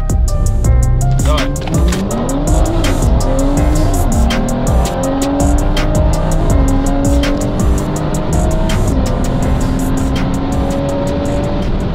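Cars, including a BMW 340, roar past at high speed, engines revving and climbing through gears, with tires hissing; loud and continuous, no talking.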